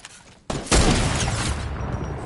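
A sniper rifle shot in Fortnite: a short loud crack followed by a sharp, heavier blast, then a sustained noisy rumble, with no talking.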